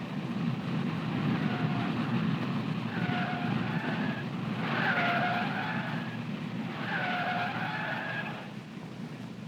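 Junior Johnson's car skidding through a pylon course on rayon-cord tires, with repeated tire squeals rising in three clear bursts over a steady engine roar.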